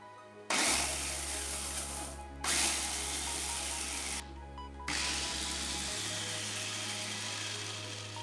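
Mito Chiba CH100 electric food chopper running in three bursts, each a loud steady whir with a low motor hum, separated by short pauses, the last burst longer and trailing off.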